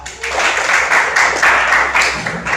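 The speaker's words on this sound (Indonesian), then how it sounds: "tepuk tangan semuanya" Students in a class clap their hands together on cue, a steady burst of close, dense clapping that carries on for a couple of seconds with a faint low hum beneath.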